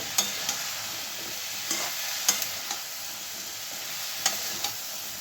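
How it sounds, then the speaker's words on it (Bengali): Bottle gourd stalks and potato pieces frying together in a pan, a steady low sizzle with a few light, spaced taps of a spatula. "এবার আমি দিয়ে দেব ডাঁটা আর আলু, একসঙ্গে ভেজে নেব।"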